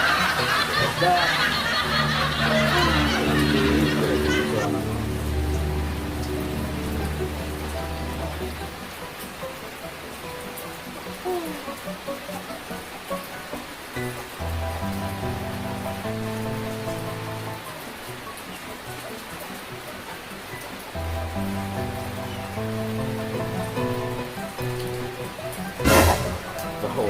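Rain patters steadily on a surface throughout, loudest in the first few seconds, with voices talking and chuckling over it in places.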